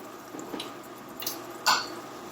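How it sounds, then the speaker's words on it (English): Tap water is added to a sauce in a kitchen during a cooking class, giving a few brief, soft splashes and drips that end in one slightly louder splash near the close, with no talking. "I'm just going to add a little bit of tap water."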